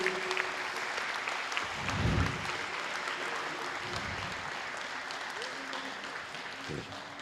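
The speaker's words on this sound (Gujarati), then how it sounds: "આદરણીય નરેન્દ્રભાઈને આ મનોરમ ક્ષણો ખૂબ તાળીઓથી આપણે અભિવાદન કરશું" An audience claps in ongoing applause at an Arya Kanya Gurukul stage performance, a dense, even patter of hands that continues for several seconds at a moderate distance, with faint low voices beneath.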